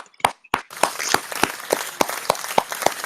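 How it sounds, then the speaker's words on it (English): Audience at a Biafra freedom rally claps in a loose, rhythmic pattern, a few isolated claps first and then steady, evenly spaced beats joined by scattered applause. "Give more clap, give more clap, give more clap, give more clap,"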